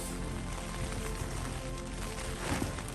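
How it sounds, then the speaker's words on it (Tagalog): Heavy rain drumming hard on a tent during wild camping on a moor, a dense, unbroken roar of close patter filling the whole stretch. "Grabe lakas ng ulan yan ah."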